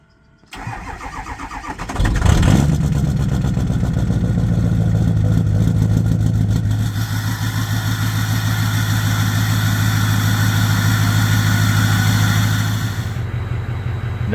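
A 6.0 engine in a truck cold-starting after a brief crank, catching loudly and settling into a steady, rumbling idle that continues close and unbroken with no talk over it.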